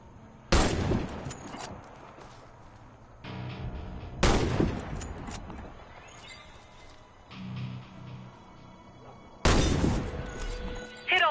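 Three loud, sharp sniper rifle shots in the shooter game Warface, spaced several seconds apart, each with a heavy crack and a ringing tail, over a low game ambience with quieter mechanical handling sounds between shots.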